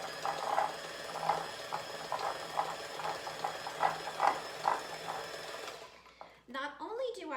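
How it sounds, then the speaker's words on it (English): An electric hand mixer whips chocolate ganache with butter, a close mechanical whir with rhythmic pulses of the beaters against the bowl that stops near the end. "I'm going to whip these together with my hand mixer"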